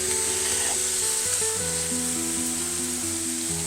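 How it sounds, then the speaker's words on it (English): Pounded steak pieces searing in a lightly oiled pan, heard as a loud, continuous close-up sizzle with faint tonal music underneath. "I want it just to get a nice sear on it and take it off"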